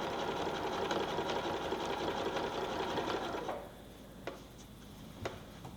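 A sewing machine stitches steadily in the ditch of a beginner quilt, a close, continuous whirring run for about three and a half seconds before it stops, followed by a few faint clicks.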